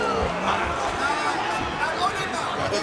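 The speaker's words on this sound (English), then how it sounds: "You hear the crowd getting behind Alfie Davis as well." Crowd noise fills an MMA event arena as fans get behind fighter Alfie Davis, a steady dense roar of voices with a babble texture, continuous and loud throughout.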